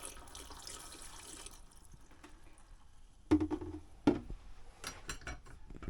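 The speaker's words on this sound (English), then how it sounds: "I'm going to go ahead and just pour it down the sink just to make sure the P-traps and everything have enough in it" Antifreeze is poured down the sink drain of an Airstream camper while winterizing: a short stream of liquid splashing into the basin first, then quieter gurgles and a couple of sharp knocks near the sink.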